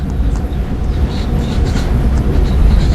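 A train rumbles along continuously in the Indian Train Driving 3D game, a low rolling drone with faint clatter, heard alone.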